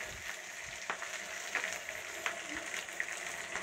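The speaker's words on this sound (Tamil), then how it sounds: "இதை நல்லா லோ ஃப்ளேம்லேயே வச்சு வறுபடட்டும்" Onion and green chili fry gently in a pan over a low flame for a plain kurma, a soft steady sizzle with occasional light taps and stir scrapes, fairly quiet and close.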